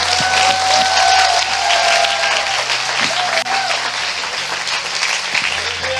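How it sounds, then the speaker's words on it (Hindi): A church congregation claps for Jesus in a sustained burst of loud, close applause, many hands pattering densely and evenly for the whole stretch. "क्या हम यीशु के लिए ताली बजा सकते हैं?"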